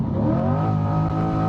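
A C8 Corvette with the factory NPP performance exhaust accelerates hard from a launch. The engine note is loud and close, with a deep, steadily rising roar of stacked harmonics.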